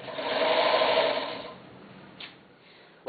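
A sewing machine runs with a steady whirring rattle for about a second and a half, then slows and fades to near quiet, with a faint click near the end.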